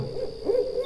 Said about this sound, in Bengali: দূরের একটা গাছ থেকে একটা প্যাঁচা কর্কশ সুরে ডেকে উঠল।